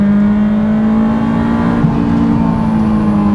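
A Honda S2000 engine fitted with a cold air intake snorkel holds a loud, steady high-rpm drone with a strong constant tone and a brief wobble midway.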